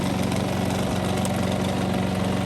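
A rotary polisher fitted with a foam pad works polish into the gel coat of a 1998 Regal boat, a loud, steady motor drone with a fast pulsing hum that never lets up, and no one speaking.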